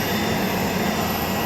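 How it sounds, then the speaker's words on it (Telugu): A SpiceJet airliner's jet engines roar steadily and loudly at close range after landing, a constant broadband whine and rumble with no breaks. "ఫ్లైట్ సౌండ్ చాలా హెవీగా ఉంది."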